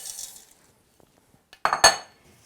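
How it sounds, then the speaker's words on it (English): Crisp cereal is tipped into a bowl of melted chocolate and stirred, giving a brief loud clatter and scrape of a utensil against the bowl after near silence. "now I'm going to add all of the cereal"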